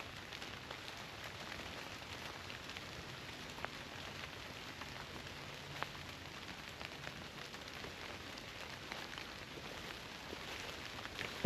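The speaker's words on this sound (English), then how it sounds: "Starting to rain a little more again." Light rain falls steadily outdoors at Stone Mountain in fog, a soft continuous patter with scattered nearby drops, quiet and without voices.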